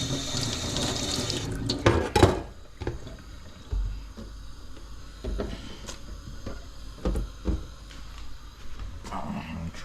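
Tap water runs steadily into a kitchen sink as food is rinsed under it, with splashing and clinks of handling and a faint voice in the background.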